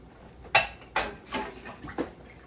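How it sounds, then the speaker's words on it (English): Chopped peppers and celery dumped into a cooking pot, a few soft thuds and rattling clatters over two seconds, close and moderately loud, with no talk. "we're going to dump all our vegetables in"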